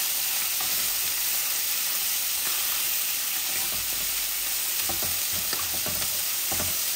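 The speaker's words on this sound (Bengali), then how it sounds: "এই আমার মাছগুলা এক পিস ভাজা হয়ে গেছে।" A medium-sized hilsa fish fries in a pan of oil with a constant, bright sizzling hiss. Small pops and crackles flicker through it at close range, and no voice is heard.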